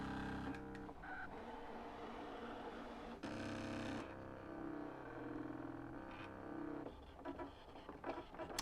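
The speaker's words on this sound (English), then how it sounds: "So as you can hear, it's a really quiet machine." A Brother ScanNCut DX cutting machine runs quietly, giving faint whirring motor passes and soft clicking carriage movements that shift in pitch, heard close with no voices.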